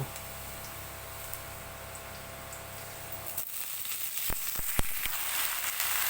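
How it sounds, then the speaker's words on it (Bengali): Pumpkin shoots and eggplant hiss in oil in a wok after the onions, a steady close sizzle that grows busier halfway through, with several sharp ticking clicks and scrapes of stirring near the end and no voices. "এবারে মিষ্টি কুমড়োর ডগা বেগুন আমি দিয়ে দেব"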